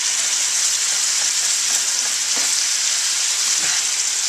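Steady sizzling and frying of corn maque choux in a hot pan, with faint occasional scrapes of a utensil against the pan bottom under the constant hiss.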